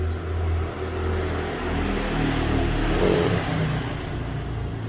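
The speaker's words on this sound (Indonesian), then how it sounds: "Kalau ini kan memang lalu lintas, jalur lalu lintas nih" Steady road traffic rumbles past nearby, a continuous low engine drone with cars swelling and fading, no voices.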